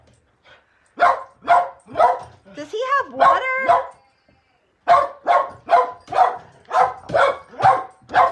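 A dog barks right at a person in quick runs of sharp, evenly spaced barks. A squealing, whining yelp breaks between the two runs, and a person briefly speaks over the noise.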